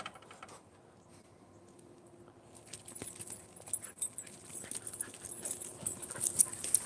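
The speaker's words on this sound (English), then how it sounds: "That's a crazy dog." An excitable Australian dog, heard outdoors near a cliff and tree, pants and snuffles close by, with a jangling rustle that grows busier and louder toward the end after a quiet start.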